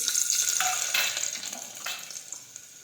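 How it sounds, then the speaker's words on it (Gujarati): Peeled garlic dropped into hot oil in a pan for a Gujarati brinjal, potato and pigeon pea curry, a loud close sizzle that crackles and spits, slowly easing over a few seconds. "હવે આપણે તેમાં ફોલેલું લસણ નાખી દઈશું"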